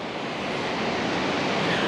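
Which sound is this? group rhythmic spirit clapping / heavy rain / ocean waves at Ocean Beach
ocean waves at Ocean Beach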